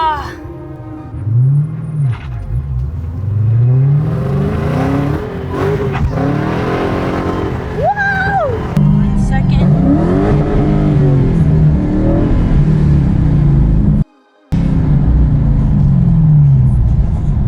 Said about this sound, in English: Once the car's rolling, when you shift in a second, don't give it so much gas.